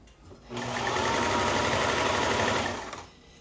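A sewing machine starts up and runs in a fast, steady whir for a few seconds, then stops, close and fairly loud.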